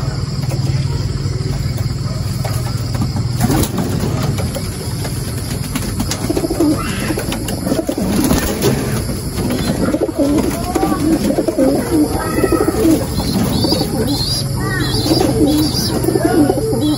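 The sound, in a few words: pigeons cooing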